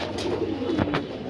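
Pigeons in a loft give soft, low, rolling coos close by, one or two phrases over quiet background noise, with no speech.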